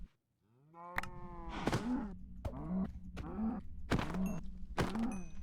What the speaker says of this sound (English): Oh, it did give us cows.